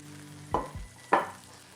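Pork cutlets in a frying pan, two short bursts of sizzling and scraping as the meat is moved, over a quiet background hiss, no talking.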